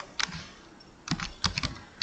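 Someone types on a computer keyboard, giving a few short clusters of crisp keystrokes separated by brief pauses. The taps are close and fairly quiet, with no voices.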